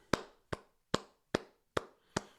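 Six crisp single hand claps land at a steady, evenly spaced pace, each one sharp and close with quiet gaps between, and no voices.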